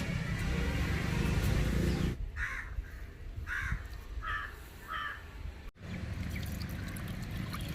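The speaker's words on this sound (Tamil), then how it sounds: "வாட்டர், தண்ணி ஊற்றிக்கலாம்." Water pours into a pan while agathi keerai poriyal cooks, a short splashing pour of about two seconds that then stops. Crows caw several times nearby afterward.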